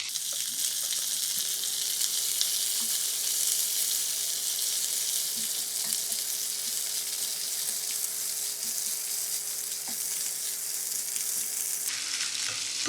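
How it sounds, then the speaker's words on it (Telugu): Curry leaves fry in a pan over a low flame, giving a steady, even sizzle that carries on alone for the whole stretch and shifts only slightly near the end. "ఫస్ట్ కరివేపాకుని వేయించుకోవాలి"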